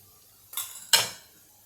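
Curd chutney (dahi chatka) is moved from a plate into a small bowl, giving two quick clinks of tableware close by, the second sharper and louder, in an otherwise quiet kitchen.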